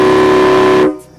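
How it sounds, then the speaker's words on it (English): A small train-style air horn fitted to a Ford Excursion blasts one steady, loud, close tone that cuts off abruptly after about a second. "I had gone down from that general 3-trumpet train horn to just a smaller one. So it's still loud, but not obnoxious."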